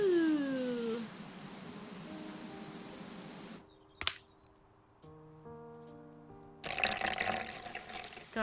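Pressure washer spraying water in Power Wash Simulator, a steady hissing rush of spray for a few seconds, a sharp click, then quieter tonal machine hum before the spray surges back in, with no talk.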